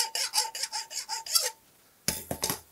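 A small handsaw gently cutting a wooden dowel for a diamond kite, with about seven quick rhythmic rasping strokes, a short pause, then a few more strokes, close and clear.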